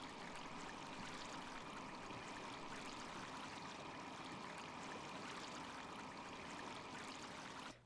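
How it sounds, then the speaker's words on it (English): A steady rush of water runs through the whole stretch as an ocean gets vacuumed up into a tank in the game The Brew Barons, with a continuous, moderately loud gurgling flow and no talk. "get within close proximity to the ocean and vacuum up water"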